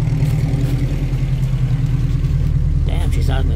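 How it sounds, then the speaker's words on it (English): A 1986 Nissan D21 pickup truck idles steadily after an ignition control module and spark plug upgrade, its low engine rumble close and even throughout, with brief faint speech-like sounds near the end. "she's idling really good"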